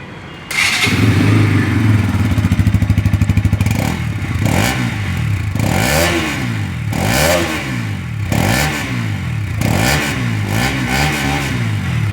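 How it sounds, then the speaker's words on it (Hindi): Bajaj Pulsar NS200 BS7 motorcycle with underbelly exhaust starts and idles with a deep, bassy burble, then revs repeatedly in a series of loud, close throttle blips, with no talking. "अब सुनते हैं NS200 का साउंड"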